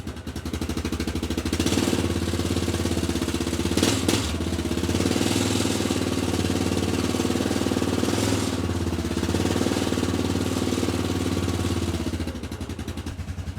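A rebuilt Yamaha Grizzly 660 ATV engine runs close by with a rapid, steady, buzzing chug. It stays at an even level throughout, and no one talks over it.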